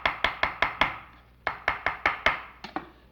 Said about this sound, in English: It's got to be really chopped as though it were a puree.